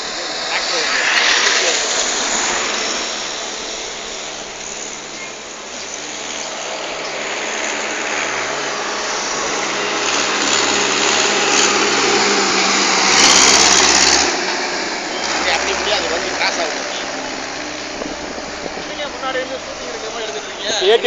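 A tractor engine passes along a road, its buzzing, high-pitched drone swelling as it draws near and then easing off, with traffic noise and voices in the background.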